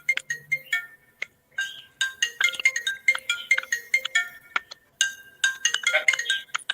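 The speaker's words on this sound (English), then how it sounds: "Your phone's ringing." A phone's ringtone plays as a bright, tinkling electronic melody of quick repeated chime notes, close and clear with brief gaps, with no talk over it.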